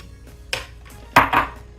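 Lemon, banana, apple, spinach and ginger tipped into a blender jar, giving two or three short clattering knocks and thuds, close and loud, with no talk.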